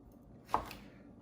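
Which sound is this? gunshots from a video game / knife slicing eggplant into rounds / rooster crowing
knife slicing eggplant into rounds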